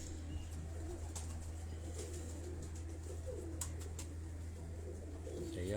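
Champion breeder pigeons on a rooftop coo faintly in low repeated murmurs, set against a steady low hum and scattered sharp clicks and rustles.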